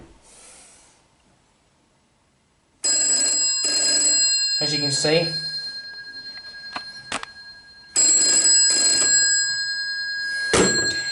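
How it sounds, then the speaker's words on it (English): A GEC telephone bell rings in a slow double cadence, two loud bursts of bright metallic clanging separated by a pause, with someone speaking briefly between and over the rings in a room. "so you can hear the bell ring. It'll ring in a slow double cadence."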